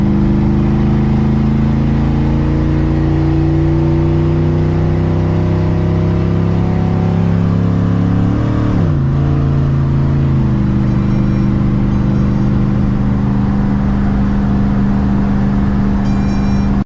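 Car engine at a steady cruise in high gear, heard from inside as a loud continuous drone with a brief dip and shift in pitch midway before settling back to an even hum.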